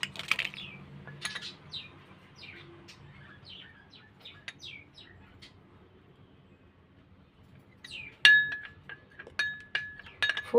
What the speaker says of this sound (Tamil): கொஞ்சம் ஊற்றி இந்த மாதிரி கலக்கிக்கணும்